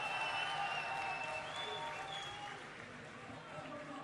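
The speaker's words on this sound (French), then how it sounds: "on les applaudit bien fort Western Digital" Audience applause at the final of an esports tournament, Vitality versus WD Supremacy at ESWC 2013, a broad steady wash of clapping and crowd noise that slowly fades, with talk running underneath.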